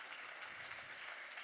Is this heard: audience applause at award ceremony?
yes